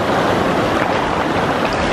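A 3D printed Archimedes screw generator spinning in shallow water, heard as a steady close rushing and churning of water with wind-like noise, continuous and without talk.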